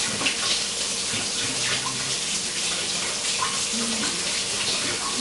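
Water runs steadily from a tap in a continuous broadband rush while a small whittled wooden duck is held under it to be wetted.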